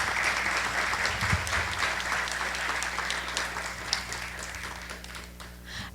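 Audience applause at a history forum as a speaker is introduced: steady clapping from a seated crowd at moderate distance over a low hum, somewhat quiet, with faint voices under it.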